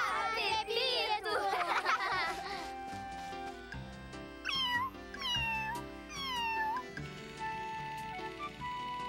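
A lost cat in a cartoon meows repeatedly, several drawn-out, rising and falling cries standing out clearly over background music and children's voices.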